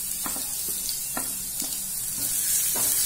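Garlic sizzles steadily in a hot pan of oil while a spoon or spatula scrapes and stirs, leaving a few soft clicks over a constant frying hiss. No voices.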